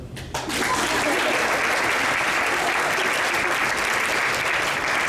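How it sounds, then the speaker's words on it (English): An audience at an awards event bursts into applause for a team's record season, dense sustained clapping from a large crowd that starts abruptly and continues evenly throughout. "Y'all can clap."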